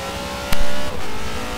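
Race car engine in Forza Motorsport 7 at Hockenheim, a steady loud drone with a sharp burst partway through, then holding a strained, high-revving tone.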